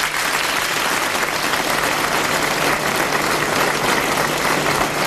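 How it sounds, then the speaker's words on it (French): An audience at a Paris cabaret revue on the Champs-Élysées applauds the show's authors, a dense, even roar of clapping from a large crowd that holds steady throughout. "il faut les applaudir"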